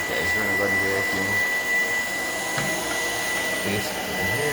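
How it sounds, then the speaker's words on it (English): A Shark Power Detect vacuum cleaner runs steadily on a laundry-room floor, its close, loud motor whine holding a constant pitch throughout with faint voices beneath it. "Alright guys, we're going to run the vacuum."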